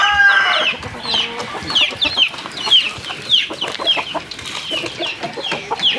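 Free-range chickens and roosters cluck and squawk busily while being fed, a dense chorus of close, overlapping calls with a brief crow at the start.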